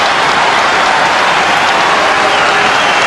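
Everton fans applaud at a UEFA Cup group match against AE Larissa: a loud, steady wash of stadium clapping and crowd noise that fills the whole clip without pause.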